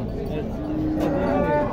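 Dairy cows mooing at a livestock fair in Tabira, Pernambuco, a long low sustained moo close by over a constant crowd murmur.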